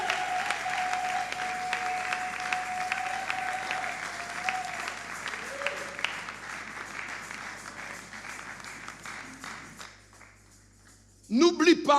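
A church congregation applauds continuously and steadily, with a dense wash of clapping that fades gradually, followed by a brief louder burst of noise at the very end.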